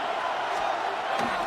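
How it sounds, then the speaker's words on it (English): Crowd noise in the Madden NFL 26 football video game swells as a broad, steady roar, dense and continuous, with faint thuds and cheers mixed in. "A big play here as the crowd noise rises."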